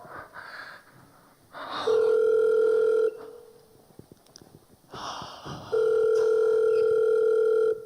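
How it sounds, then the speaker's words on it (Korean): During a church stage play, a telephone call is being placed. Two loud, steady dial-tone bursts, each about one to two seconds long, play close by, separated by faint rustling and breathy handling noise. "내가 바로 전화해 볼게"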